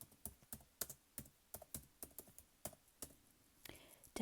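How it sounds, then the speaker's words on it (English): Notes are typed on a computer keyboard in a quiet ASMR setting: close, crisp keystrokes in an irregular run, some in quick bursts, with a soft rustle at the end. "Just typing some notes,"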